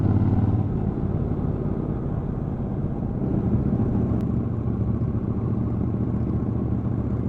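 A torquey motorcycle pulls away on the Glasgow Distinguished Gentlemen's Ride, its engine a steady, loud low rumble heard close by for several seconds.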